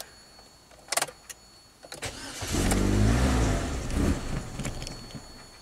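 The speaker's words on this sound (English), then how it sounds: "Give it some gas here. I can keep it alive with the gas." A Chevy HHR with a start-stall fault and many codes cranks and catches, then its engine revs up under throttle and wavers unevenly as it struggles to stay running, close and loud after a few light clicks.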